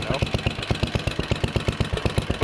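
A 69-year-old Briggs & Stratton 23A-FB small engine with a front main seal leak idles close by, a loud, rhythmic chugging pulse that runs slightly uneven throughout.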